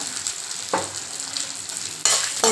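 Garlic cloves and dried red chilies fry in a pan on low flame for a coconut-lentil chutney, giving a steady soft sizzle with a couple of brief stirring scrapes, close and alone.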